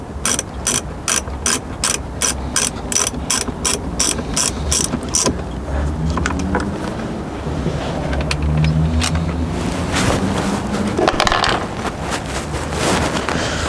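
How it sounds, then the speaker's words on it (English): A ratchet wrench loosening the 10mm bolts that hold the factory screen in a Lexus NX, a rapid series of close, sharp clicking strokes followed by quieter mechanical clicks and handling noise. "Remove the 2 10mm bolts on either side of the factory screen,"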